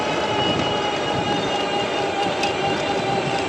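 Wallke H7 Ultra rear-drive e-bike at full throttle while the rider pedals along, a steady loud rushing whir of motor and wind that is constant throughout with no speech.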